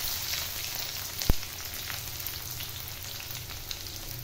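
Garlic and onion fry steadily in a pan for aloo methi sabzi, a soft continuous sizzle with one sharp clack partway through and no voices.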